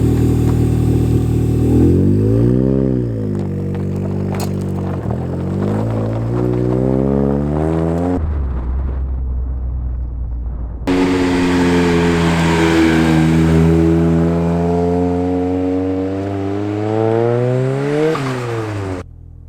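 A Ford Sierra RS Cosworth revving hard as it accelerates on a drive, its engine note climbing through gears in loud, close pulls, a brief lift-off lull in the middle, then another strong surge and rising turbo whine.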